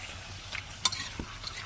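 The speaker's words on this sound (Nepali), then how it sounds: "अब बल्ल प्याज हालेर भुट्नु" Onion and chicken curry sizzle gently in a pan in a village-style kitchen, with short scraping stirs and a couple of light utensil clinks against the pot.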